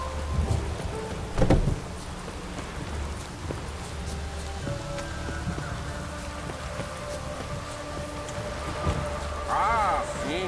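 Rain falls steadily in The Witcher 3: Wild Hunt, a soft continuous hiss broken by a few sharp thuds, with faint voices and game sounds in the background.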